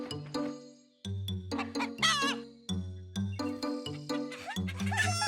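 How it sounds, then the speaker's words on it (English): Chickens cluck in a barnyard, a close run of short, choppy clucks and one squawk, with nobody speaking. "In the barnyard, Caillou saw some chickens."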